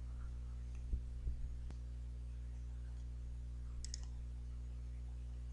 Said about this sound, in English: So we'll click on the search now